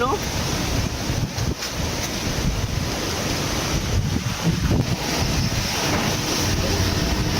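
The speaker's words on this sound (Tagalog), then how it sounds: "Hangin. Kapit. Tingnan mo. Ang lakas." Strong, gusty typhoon wind in Pangasinan roars steadily across the whole clip, buffeting the microphone with broadband rushing noise and occasional deeper surges.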